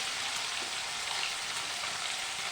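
A pan of amudi fish sizzles in hot oil, a steady close crackling hiss with small pops and no voices.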